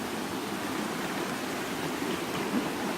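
Water sloshes and swishes continuously inside a canteen as it is shaken, a close, steady churning with no talk.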